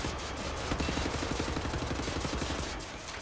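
Sustained rapid machine-gun fire in the shooter Wolfenstein: The New Order, a dense continuous rattle of close, loud shots lasting the whole stretch, with no voices over it.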